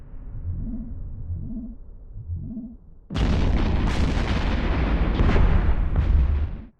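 Loud rolling explosions from space-combat fighters in EVE Echoes burst in after a quieter stretch of low pulsing engine drones, then keep booming densely for several seconds.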